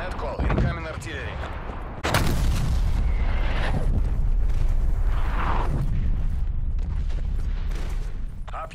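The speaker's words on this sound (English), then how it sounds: "Artillery targeting detected. Net call, incoming artillery." Incoming artillery strike explosions in Call of Duty: Black Ops Cold War, a loud sudden blast followed by sustained rumbling impacts and debris, with game voice callouts heard over the barrage.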